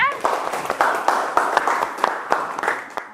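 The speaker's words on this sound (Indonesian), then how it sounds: "Tepuk tangan dulu untuk semuanya." Students in a classroom clap together in a steady, fairly close round of applause lasting a few seconds.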